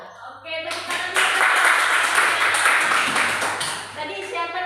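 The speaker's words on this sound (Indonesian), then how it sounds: "Oke, tepuk tangan." A classroom of students breaks into hand clapping after a short pause, a dense, steady burst of many hands that carries on for several seconds, with a few voices mixed in underneath.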